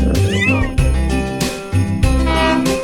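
A kitten meows several times, loud and close, over a cheerful children's Christmas counting song with bright music.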